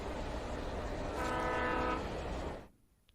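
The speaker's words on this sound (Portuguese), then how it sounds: "Tem um trem ali, impressão minha." A train rumbles past in the video game Alan Wake, a steady mechanical roar with a tonal horn-like whine in the middle that cuts off abruptly, leaving near silence.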